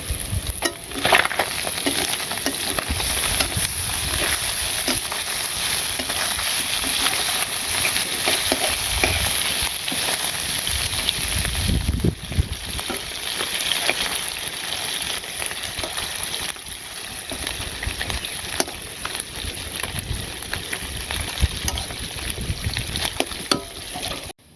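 Sliced onions fry in hot oil in a pan for a shapla charchari with small fish, giving a steady, close sizzle with occasional stirring scrapes, and no talking throughout.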